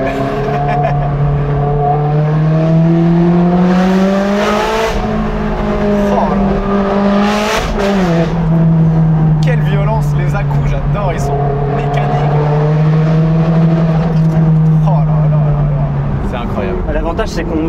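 Ferrari 360 Challenge Stradale engine pulling hard through long first gear, loud harmonic howl climbing and dipping with throttle, sharp crackles at shifts, heard from inside the cabin while someone speaks French over it.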